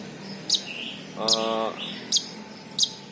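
A long-tailed shrike (burung cendet) gives short, sharp chirps at a steady pace, with one longer buzzy, ringing call in the middle, fairly close and on its own with no talk.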